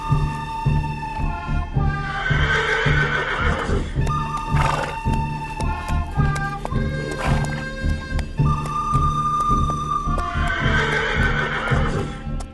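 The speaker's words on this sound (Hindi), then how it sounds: "यार घोड़ा देखो कैसे दुर्गी चल रहा है।" A horse walks with steady clip-clop hoofbeats and gives several loud neighs and whinnies, close by, over a continuous background hum with no talking.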